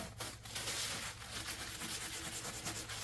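Steady close rubbing with a plastic tool over a wooden occasional table top coated in triple-thick polyurethane, a continuous scraping swish with slight pulses, heard alone.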